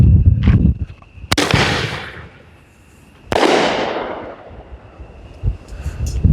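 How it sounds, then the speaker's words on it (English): Sunwing Black Queen ball shell fireworks bursting outdoors: two loud, sharp booming breaks a couple of seconds apart, each followed by a crackling, hissing tail that fades, with a faint steady tone in the background. "we've got the Black Queen shells here, Black Queen ball shells"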